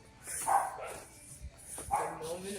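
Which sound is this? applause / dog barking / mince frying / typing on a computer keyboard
dog barking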